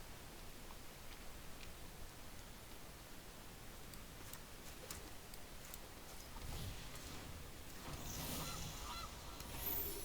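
A goose in MTG Arena honks amid a dense, hissy game soundscape, with rustling and a swell of noise that builds toward the end.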